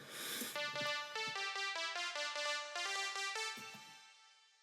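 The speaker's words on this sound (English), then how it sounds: "those little echoey bits right after the notes play" A short melodic instrument phrase of clear, evenly spaced notes, each trailed by a faint repeating delay echo that fills the gaps and fades out after the last note.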